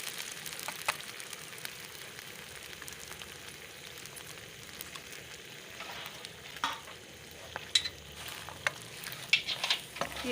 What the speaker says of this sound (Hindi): चीनी मेल्ट हो गई है, अब मैं गुड़ शामिल कर रही हूँ।